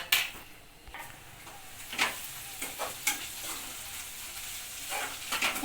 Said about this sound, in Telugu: వేగిన తర్వాత ఇలా కలుపుకోవాలి.